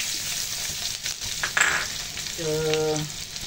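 Anchovies (ikan bilis) frying in hot oil until crispy give a steady, close sizzle with stirring scrapes. A brief tonal clatter, like utensil contact, comes near the end.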